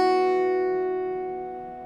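A single Irish bouzouki note or chord from the tune Calliope House, struck once and left ringing, fading steadily over about two seconds with no other sound.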